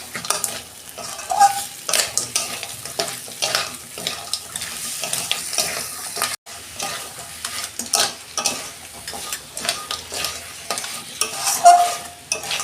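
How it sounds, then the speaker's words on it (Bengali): Sea crabs frying in cooked-down spice paste, stirred steadily with a spatula in a pan. Continuous sizzle with scraping stirs and occasional clinks of the utensil against the pan throughout, with no talking. "এই যে মশলা কষানো হয়ে গেছে, আমি কাঁকড়াগুলো দিয়ে দিচ্ছি।"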